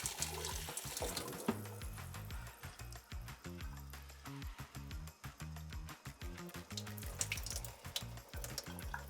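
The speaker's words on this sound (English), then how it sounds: "the water does come out" Water runs quietly inside a GE washing machine, a faint continuous flow through the dispenser tray with light rhythmic ticking alongside and no talk.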